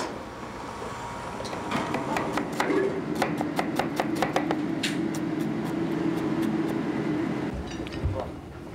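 A knife chops through food on a board in a restaurant kitchen, a quick run of sharp, close cuts followed by a few scattered strokes over steady kitchen background noise.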